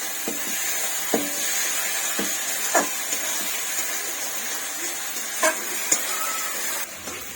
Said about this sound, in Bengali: ভালো করে নাড়িয়ে চাড়িয়ে নিয়ে নিতে হবে, কষিয়ে নিতে হবে।